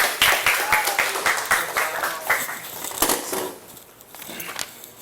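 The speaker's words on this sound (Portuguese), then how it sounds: "Palmas para os nossos voluntários." An audience in a programming lecture hall claps for volunteers, a brief burst of scattered, fairly close hand claps that thins out and fades after a few seconds.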